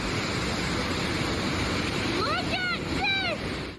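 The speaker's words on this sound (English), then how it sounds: "It's not too common to come across water in a cave, but a gushing waterfall?" Gushing waterfall inside Sharps Cave, West Virginia: a steady, loud rushing roar of falling water fills the whole stretch, with a few brief high chirping calls rising over it near the end.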